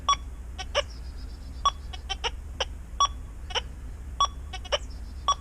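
Short electronic beeps from an XP Deus 2 metal detector on a beach program repeat irregularly, each a brief bright tone over a quiet low hum, with no voices.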